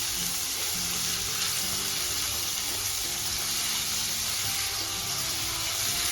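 Finely chopped onion and sweet corn sautéing in a pan for white sauce pasta, a dense continuous sizzle close by with faint stirring, no voices.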